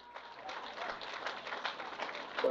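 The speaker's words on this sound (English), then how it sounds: "round of applause please to the guys from Athlone" Steady crowd applause at a rowing championship, fairly distant and soft, continuous clapping from many hands throughout.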